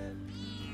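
A cat meows in the golf video game What the Golf, one drawn-out, slightly nasal cry that stays fairly soft and clear with no talking over it.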